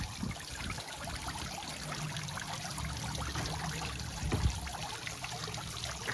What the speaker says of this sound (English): creates a little bit better of a waterfall.